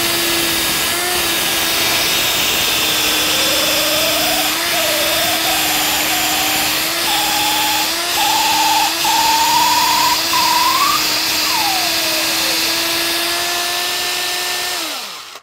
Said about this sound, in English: I left the drill on as I was pushing down and pulling back, so I didn't rip the cork